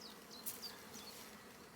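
Live hornets caught in a hornet trap at a beehive buzz faintly and continuously, with a couple of brief louder wingbeat flares, alone without talk.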